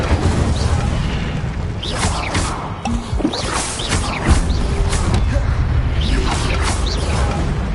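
Incendio fire spell cast in Hogwarts Legacy amid rapid spellcasting, with repeated whooshing bursts, thuds and crackling impacts layered over steady game ambience at a constant, fairly loud level.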